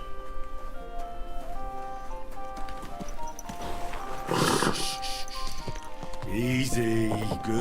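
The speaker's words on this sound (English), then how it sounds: "Easy, good horse." Rhythmic clip-clop of hooves with a horse snorting and a short whinny near the end, over a busy background in Kingdom Come: Deliverance 2.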